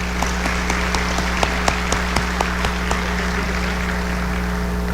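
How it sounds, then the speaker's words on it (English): Scattered applause at a fire service convention session for the conference co-chairs, sparse individual claps spread out over a steady low hum, fairly distant and thin. "Let's give these ladies a round of applause."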